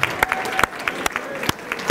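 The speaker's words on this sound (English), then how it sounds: "let's have a round of applause" An audience at a charity heroes dinner claps enthusiastically, a dense burst of applause from many hands filling the room at close range, with a few voices mixed in.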